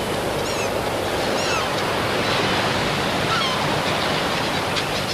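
Continuous roar of waves breaking on the eroding Holderness coast beach, loud and steady, with wind noise and a few faint bird calls over the top.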